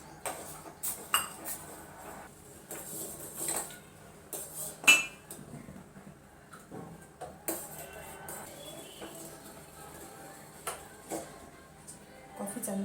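A spoon stirs milk for coffee in a metal pot, giving light intermittent clinks and scrapes against the sides, close and fairly quiet, with someone speaking between them.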